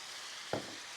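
Ground meat sizzles in a hot pan on high heat, a soft steady frying hiss broken by two quick scraping stirs, close and without voices.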